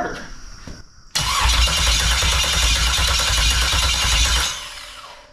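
An old Pontiac LeMans engine cranks on its starter after a brief quiet pause, a loud, close, rapid churning whir that runs for a few seconds and then fades.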